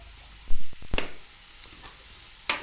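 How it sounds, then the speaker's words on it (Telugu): Chili powder frying in a pan, giving a soft sizzle with a few sharper scraping and stirring knocks, close and moderate in level with no talk. "తగినంత కారం దాన్ని బాగా వేయించుకోవాలి"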